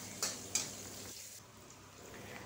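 Sliced shallots and garlic sauté in a pan for stir-fried green eggplant with anchovies, giving a steady low sizzle with two sharp utensil clinks early on, heard close with no talking.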